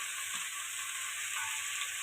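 Tomato, carrots and beans sizzle in a hot pan while being stirred, a steady close frying hiss with faint scraping throughout and no speech.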